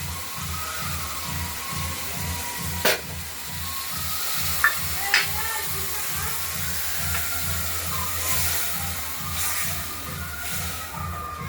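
Spices frying in oil for a boal fish curry with potato and tomato, a steady sizzle with rhythmic stirring scrapes throughout and a few sharp clinks of a utensil against the pan.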